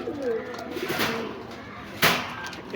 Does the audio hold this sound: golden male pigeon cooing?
yes